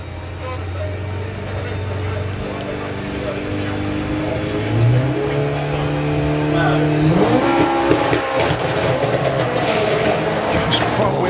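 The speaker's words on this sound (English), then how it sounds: "You could just hear the roar as it set off then." A Mark 1 Golf drag car launches at a Bug Jam drag racing event, its engine roaring up through rising revs with gear-like steps, loud and close over crowd and track noise.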